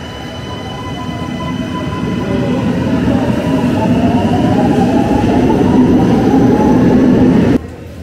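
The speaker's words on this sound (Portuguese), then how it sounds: "Eu tava dormindo no metrô." A Milan metro train rumbles along loudly with a steady low roar and faint squealing overtones, continuing for several seconds before the noise suddenly drops.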